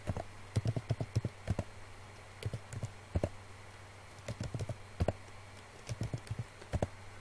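Keystrokes on a computer keyboard come in short bursts of several taps each, separated by pauses, close and fairly quiet against a low steady hum.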